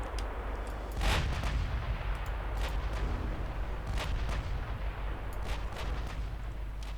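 Naval guns fire from US warships in the video game Ultimate Admiral Dreadnoughts, set in a 1950 campaign. Heavy booms repeat every second or two over a dense, constant battle rumble, with no talking.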